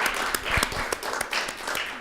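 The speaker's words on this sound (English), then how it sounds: "So let's give a round of applause for Lucy." Applause for a speaker at a high school event, a round of clapping from a small audience with sharp individual claps standing out, steady for a couple of seconds.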